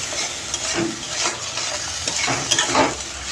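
Soaked raisins go into a pot of pulao and are stirred through, giving a moderate frying sizzle punctuated by repeated scraping, shuffling strokes of a spoon against the pot.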